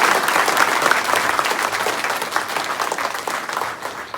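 Loud, dense applause from a large audience at a TVS comedy event, continuous clapping filling the whole stretch and tapering slightly near the end.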